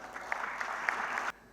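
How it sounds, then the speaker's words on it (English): Audience applause for a design debate panel in Surat, a steady bed of clapping with a few sharper individual claps, ending abruptly after about a second and a quarter. "let's have a round of applause for the wonderful panel"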